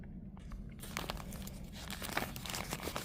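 Newspaper being rolled up and taped shut while building a clay mask form, heard as continuous close crinkling and crumpling of paper with sharper rustles, no talking.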